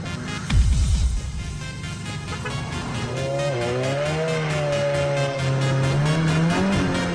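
A Nissan car drifts in the dark. A loud burst comes first, then a sustained engine drone and a wavering squeal of tires rise and fall close by.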